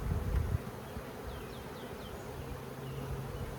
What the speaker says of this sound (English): As you can see, there's more and more bees in the air.